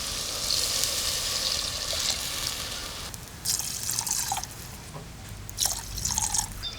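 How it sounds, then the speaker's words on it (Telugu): Water being poured into a clay pot on a wood-fired stove for egg biryani, a steady trickling splash with soft bubbling and dripping, faint and close, no talking. "గ్లాసుల రైస్కు 3 గ్లాసుల నీళ్ళు పోస్తున్నా."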